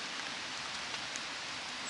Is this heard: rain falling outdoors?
yes